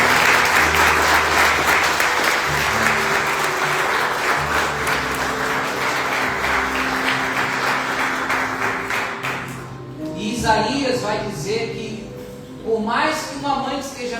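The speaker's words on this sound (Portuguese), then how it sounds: "Vamos aplaudir a Deus pela vida das mães" A church congregation applauds in honour of mothers, steady crowd clapping over sustained music for about nine seconds, then fading as voices take over.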